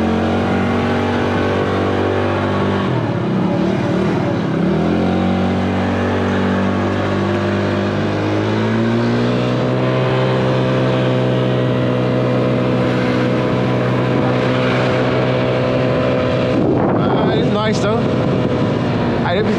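A Pony 50cc scooter engine drones steadily while riding at about 20 miles an hour, its buzzing pitch rising and settling with throttle changes, loud and continuous, with wind noise and brief talk over it.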